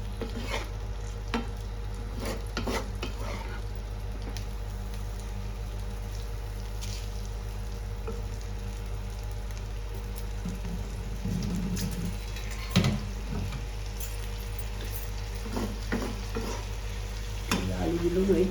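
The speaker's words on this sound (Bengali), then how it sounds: "হলুদ গুঁড়ো, লঙ্কা গুঁড়ো, জিরে গুঁড়ো, ধনে গুঁড়ো একসাথে দিয়ে এটা কষে নিতে হবে" Ground turmeric, chilli, cumin and coriander powders sautéed and stirred together in a pan for pabda fish curry with cauliflower and potatoes, giving a steady low sizzle with scraping stir strokes throughout, close and even.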